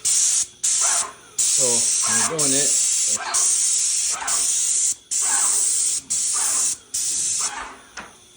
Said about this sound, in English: All right, doing a quick thing as we're spraying drywall.